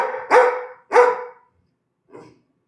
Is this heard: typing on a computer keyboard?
no